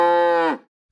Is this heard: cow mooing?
yes